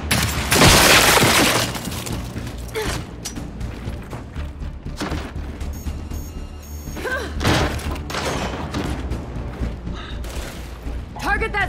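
Gunfire aimed at a sniper in Gears of War 5: a loud, dense barrage of shots with cracking, shattering impacts, heaviest in the first two seconds and then continuing in steady bursts, with a voice talking underneath.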